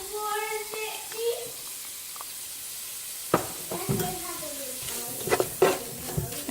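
Chopped onion and a clove of garlic sizzling with cooked ground beef in a pan, a steady frying hiss with occasional stirring scrapes and utensil clinks, close and moderately loud, with no speech.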